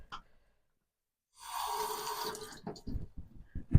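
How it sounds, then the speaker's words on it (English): Heirloom truss tomatoes are rinsed under a running kitchen tap, a close splashing stream for about a second, followed by wet handling sounds and soft knocks. "With your tomato, we'll give them a quick wash first."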